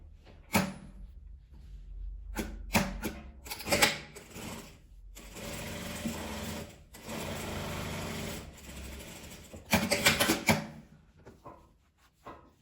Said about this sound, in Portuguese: E passa a costura, fechando as duas laterais.